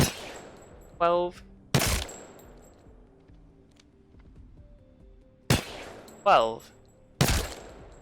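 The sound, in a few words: RE45 pistol gunfire in video game Apex Legends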